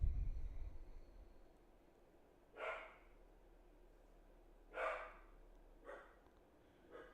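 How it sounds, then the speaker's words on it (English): A dog indoors barks a few times, short faint woofs spaced a second or two apart against a quiet room, with no talking. "Oh, now I just heard him go, woof."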